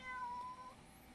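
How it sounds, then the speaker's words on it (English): A barn cat meows close by, a short tonal cry of about one second with no talk over it. "That's my cat."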